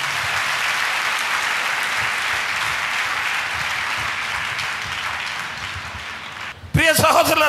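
A church congregation claps through a Sunday sermon, producing a dense, steady wash of applause for several seconds before it cuts off and a voice begins speaking.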